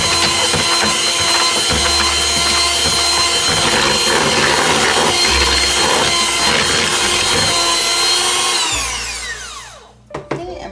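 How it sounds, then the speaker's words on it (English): An electric mixer runs at high speed beating whipped shortbread dough in a bowl, a loud continuous mechanical whir with rattling that winds down and stops near the end. "We'll just turn that up a bit and beat it for about a minute."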